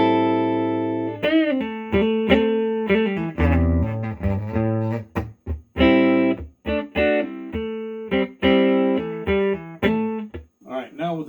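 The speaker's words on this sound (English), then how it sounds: "No reverb, no effects, just the guitar." Clean, dry electric guitar playing a melodic phrase of plucked notes and chords, each note ringing clearly with no added echo.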